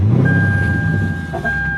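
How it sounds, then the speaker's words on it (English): A Lexus LS460 being switched on: a low engine rumble beneath a thin, steady electronic chime tone that holds through a short, loud moment. "I'll turn on the vehicle."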